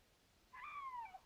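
A lynx in a hunting video game gives a single drawn-out, wavering call that slides downward at the end. It stands out against a quiet background, with no talking.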